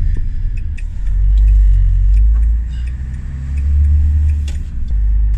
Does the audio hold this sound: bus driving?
yes